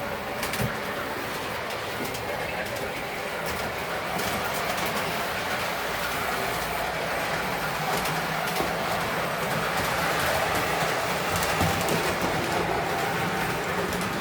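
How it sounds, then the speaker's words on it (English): Model train caboose rolling along uneven track, a steady continuous rolling rumble with faint rail clatter running the whole time, fairly close, with no talk. "as you can see, the caboose is rolling along. Even along my lousy track work."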